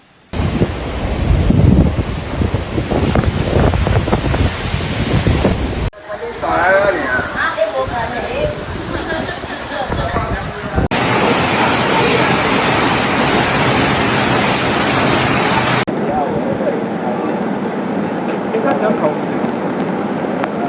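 Typhoon Fung-wong makes landfall over Kaohsiung in southern Taiwan, with a loud, steady roar of wind buffeting the microphone and crashing surf and storm noise continuing unbroken throughout.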